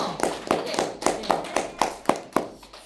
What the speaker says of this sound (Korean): 티파니 대표님께 다시 한번 큰 박수 부탁드리겠습니다